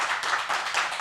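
An audience at a live performance claps for the artist, a brief burst of dense, steady applause.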